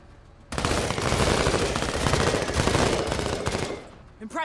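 A big deployed gun in a bug-fighting video game fires a sustained, dense burst of rapid shots, loud and continuous for about three seconds before tapering off.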